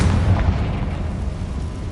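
The Confringo blasting spell from Hogwarts Legacy bursts in a heavy booming explosion that rumbles and slowly fades, with no voices.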